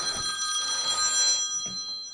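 A telephone rings with a steady electronic trill for over a second, then cuts off, leaving a quiet room with a faint voice.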